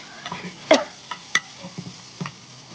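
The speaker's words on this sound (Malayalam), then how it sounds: "ഇറച്ചി ചേർത്തിട്ട് ഒന്ന് ഇളക്കി നന്നായിട്ട് ഇളക്കി കൊടുക്കുക" Duck meat is stirred into a masala in a pan, heard as a few soft scrapes and light clinks of the spoon against the pan over a faint sizzle, quiet and close.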